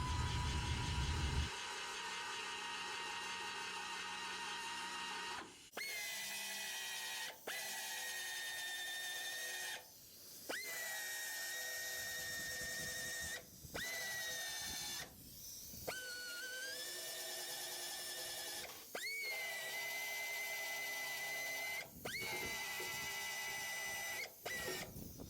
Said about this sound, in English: all I'm doing is just grinding them down with my belt sander.